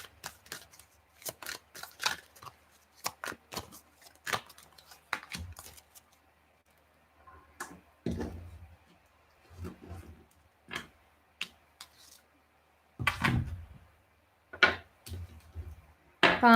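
Tarot cards laid out into piles on a table, a series of quiet irregular slaps, flicks and shuffles with pauses between, close and soft.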